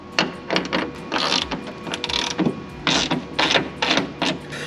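Ratchet loosening bolts on a BMW M2, a close, loud run of rapid clicking pawl strokes in repeated bursts, with no talking.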